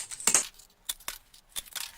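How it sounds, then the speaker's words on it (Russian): Metal shears snip through a worn flap disc in several short, sharp clicking cuts with faint metallic clinks, close and quiet in an otherwise silent workshop. "Берем ножницы по металлу и начинаем резать."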